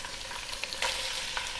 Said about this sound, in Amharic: ከዛ ስጋችንን እንጠብሳለን